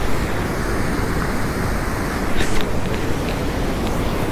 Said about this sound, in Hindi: यहाँ पे पानी का शोर इतना ज़्यादा है ना